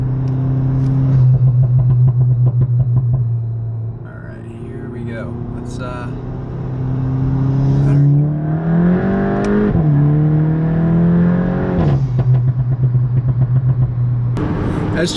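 A tuned car on a stage 1 pro tune accelerating hard, with a loud rising engine roar, a gear change, and bursts of rapid crackling exhaust pops and bangs as the throttle lifts, heard close.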